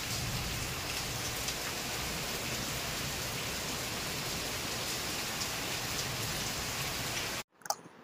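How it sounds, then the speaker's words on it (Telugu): Heavy rain falling outside in a dense, steady patter on surfaces. The downpour holds unbroken for most of the time and then cuts to near silence, leaving a few faint knocks at the end. "ఫుల్గా వర్షం పడుతుంది కదండి"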